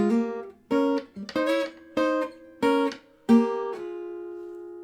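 Guitar playing a slow melody harmonized in parallel tenths, six or seven plucked two-note dyads in even succession, each ringing briefly, the final one sustaining and fading; close and clear, no talking.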